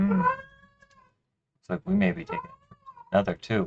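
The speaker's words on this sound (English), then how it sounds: "That's my cat. She's getting older." A pet cat, an older female, lets out a close, drawn-out meow that fades, followed after a pause by someone talking over brief further cat sounds.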